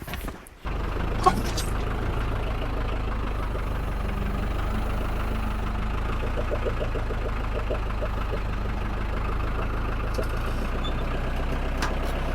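A steady, rumbling tractor engine idles continuously at close range, low and constant throughout, with a brief thump near the start.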